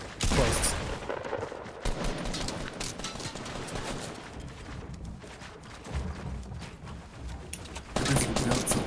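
Rapid bursts of gunfire in Fortnite, dense overlapping volleys and machine-gun rattles crackling almost continuously, loud and close, with players' voices mixed in.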